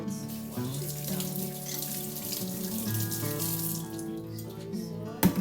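Tap water runs steadily into a kitchen sink while a soy sauce bottle is washed, a close continuous splashing stream with a faint clunk of the bottle at the end.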